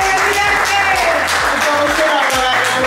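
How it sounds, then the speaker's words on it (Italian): A dinner crowd after a football tournament breaks into dense, sustained applause, with many hands clapping close by and filling the whole moment, while voices mix in underneath. "un applauso al presidente"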